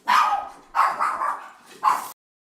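Several dogs in a household bark in excited bursts after a doorbell, three loud close volleys with short gaps, then sudden silence.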